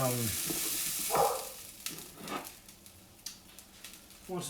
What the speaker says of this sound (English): So you just want to stir this in the oil.